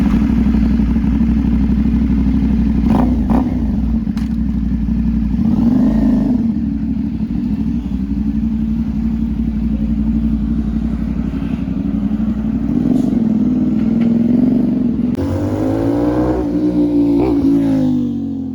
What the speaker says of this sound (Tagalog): Ang ganda ng 270 crank ni 450NK doon sa exhaust na napili ko